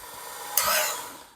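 A Ken Onion Work Sharp electric knife sharpener switches on and runs locked on, a steady abrasive belt whir that jumps up sharply and then fades a little, with no one talking.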